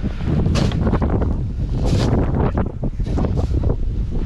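Strong wind roars steadily during a snowfall, buffeting the microphone with loud gusts and rumbling low noise throughout.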